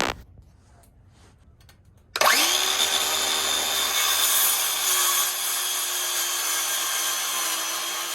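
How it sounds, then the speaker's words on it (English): A power saw whines up suddenly after a quiet start and cuts steadily and loudly through the edge of a live-edge wood board, a sustained high buzz without pause. "saw to cut off some of the edges that were kind of messed up when I bought them"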